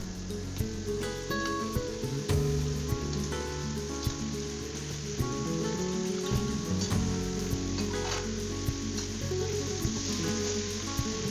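Bottle gourd pieces dropped into a hot pan of spices, ginger and oil for a Bengali lau chingri curry, giving a steady close sizzle with occasional stirring clinks throughout.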